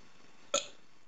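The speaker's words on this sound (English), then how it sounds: "Sorry, I just burped there" A single short burp from a man with acid reflux bursts out once, brief and fairly close, against an otherwise quiet background with no talk.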